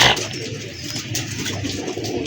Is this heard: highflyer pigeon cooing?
yes